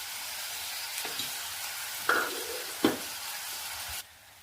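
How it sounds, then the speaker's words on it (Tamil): Tomato masala with coriander powder sautéing in a pan, a steady close sizzle with two louder stirring scrapes in the middle before it cuts off near the end. "மல்லித்தூள் எல்லாமே தக்காளி கூட சேர்ந்து வதங்கிட்டுங்க."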